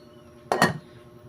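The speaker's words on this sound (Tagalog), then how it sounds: "Tatakpan ko muna po." A metal lid set down on a pot of cooking pork sinigang with a quick double clink, close and brief, followed by quiet.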